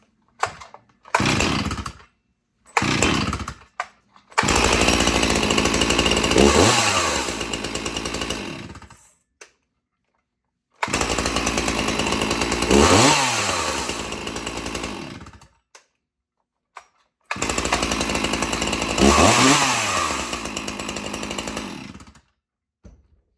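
Two free chainsaws start on the first pull, one after another: short sputtering bursts first, then long, loud, close engine runs that rev up and settle, with brief silent gaps between them.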